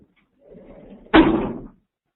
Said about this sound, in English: let me close my door here real quick